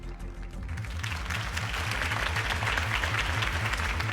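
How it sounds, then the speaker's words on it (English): Crowd applause at a political campaign rally for Harvey Dent in Batman Telltale, swelling into steady dense clapping over a low rhythmic music bed, moderately loud and sustained. "If only Mr. Wayne, my campaign's largest backer, could have heard that applause"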